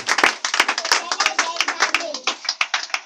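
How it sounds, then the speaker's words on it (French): A church congregation claps in a steady, sharp rhythm during a worship service, with singing or voices running beneath the close, regular hand claps. "Applaudis, acclame le Seigneur."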